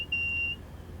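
A train cab warning alarm in the Train Sim Classic game, on the Manchester Piccadilly to Liverpool Lime Street route, gives a single short, thin electronic beep about half a second long against a quiet cab hum.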